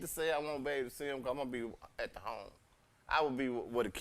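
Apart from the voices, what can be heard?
No everyday noise stands out behind the speech.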